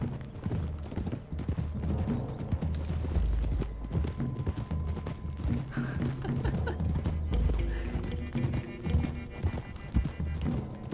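Horse hooves clip-clopping in the Red Dead Redemption 2 video game, a steady walking rhythm with an occasional whinny, mixed under game dialogue and music.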